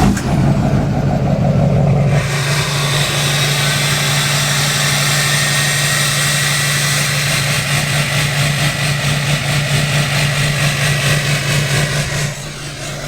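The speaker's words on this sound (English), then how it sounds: "let's go ahead and crank the truck up" A Duramax diesel truck engine cranks and fires in the early morning, then settles into a loud, steady, rumbling idle close by with no voices over it, dropping slightly in level near the end.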